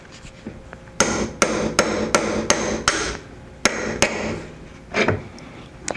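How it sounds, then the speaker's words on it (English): Hammer driving small copper burrs onto rivets with a rove, about nine sharp metallic taps in a fairly even rhythm, close and loud, with a short pause before the last few strikes. "I want to drive on these little copper washers. These are called burrs"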